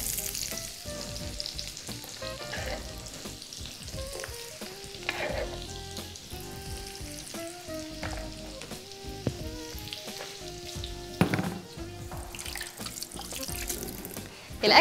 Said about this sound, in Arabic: انا دلوقتي هنزل بالبصل بتاعي على الزيت